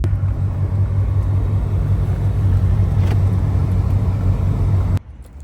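A car drives along the road with a steady low engine and road rumble, then the noise cuts off abruptly near the end as it pulls up and stops.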